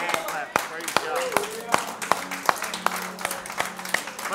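A church congregation's hand claps ring out in a room, loud and irregular rather than a steady rhythm, with voices and background noise underneath.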